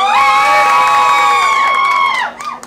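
An audience at a concert in a small New York club lets out a loud, sustained scream and cheer with shrill held voices, then cuts off abruptly into a few scattered shouts.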